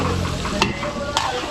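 Garlic and onion sizzle steadily in a frying pan as lengua (beef tongue) is being cooked, with two sharp stirring scrapes cutting through the constant hiss.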